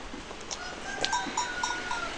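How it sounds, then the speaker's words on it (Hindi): A baby goat bleats faintly in a rural village setting, a few short thin calls amid ambient outdoor noise. "ये देखिए हम लोग को बकरी का बच्चा"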